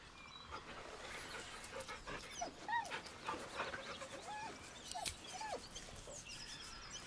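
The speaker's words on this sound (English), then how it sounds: "The dog whimpers nervously," A dog in Baldur's Gate 3 whimpers nervously with soft panting and a few high, rising whines, faint and close, over a quiet ambient background.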